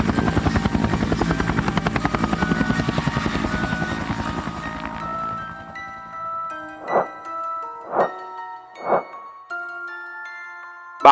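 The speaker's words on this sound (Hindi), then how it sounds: "बाबा का हेलीकॉप्टर नीचे लैंड हुआ।" A cartoon helicopter lands with a loud, fast rotor chop for about five seconds, then the blades cut out. A tinkling chime follows with a few soft whooshing swells.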